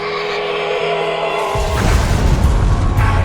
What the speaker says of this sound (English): Nuclear weapons were used without restraint.